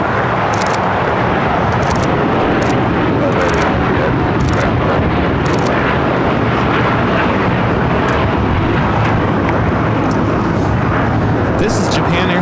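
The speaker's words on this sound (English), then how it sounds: "This is Japan Airlines Flight 61 taking off to Tokyo Narita on the 787-9 Dreamliner" A Japan Airlines Boeing 787-9 Dreamliner departs LAX for Tokyo Narita, a loud, constant broadband engine roar filling the whole stretch, with voices speaking on top.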